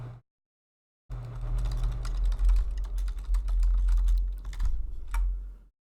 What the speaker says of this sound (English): That was probably super loud since my keyboard is right by the microphone.